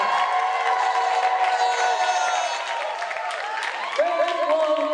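Audience at a comedy show roaring with cheers, whoops and clapping in a dense, loud wash of crowd noise that holds steady throughout, with shouting voices on top.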